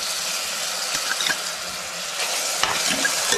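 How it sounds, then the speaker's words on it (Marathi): Tomatoes frying with softened onions on low heat for a val birde and padwal mixed bhaji, with a steady close sizzle and scraping stirring strokes throughout, no voices. "टॉमॅटो फिरवून द्यायचं जरा।"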